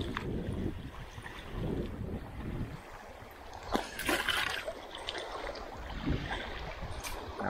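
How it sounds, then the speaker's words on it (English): Steady wind buffets the microphone outdoors while crab fishing by handline, with gusty rumble, mixed with light water splashing and lapping nearby; no talking. "Really windy day."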